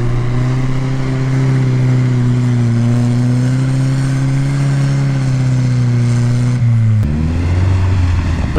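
Car on Chinese Laufen studded winter tyres accelerating, its engine droning loudly and steadily with a rising tone before a sudden shift to a lower note near the end, with tyre noise underneath and no talking.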